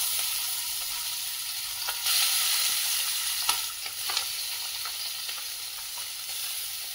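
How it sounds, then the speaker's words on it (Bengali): Salt-and-turmeric-coated tangra fish frying in hot oil over medium heat, giving a steady close sizzle with a few brief crackles and spatters, and no talking. "এবার নুন হলুদ মাখানো ট্যাংরা মাছগুলো একে একে ভাজতে দিয়ে দেব।"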